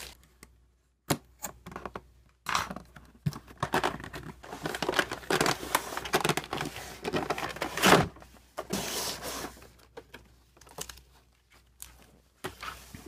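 GeForce GTX 780 graphics card box unsealed and unwrapped: a long run of close crinkling and crumpling plastic and cardboard, with bursts of rustling, tearing and scraping that come and go, separated by short quiet gaps.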